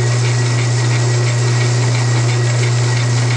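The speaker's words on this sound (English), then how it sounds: "The lathe is running about 1 revolution per second, or 60 per minute" Lathe spinning a T5 transmission gearbox at about one revolution per second, a loud, steady low mechanical hum with a constant drone and no pauses or talk.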